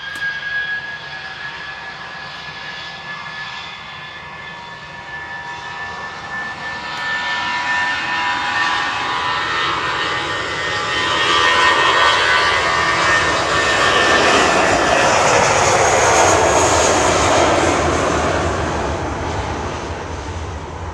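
Jet airliner departing Manchester Airport as Shuttle 3 Foxtrot, flight 1407, a steady engine roar that swells louder over the middle and holds, heard on its own from the spotting area.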